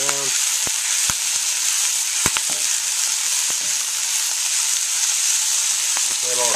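Red fox squirrel meat sizzles steadily in a hot pan as a stir fry, with a constant bright frying hiss and a few sharp clicks of utensils stirring, no talking.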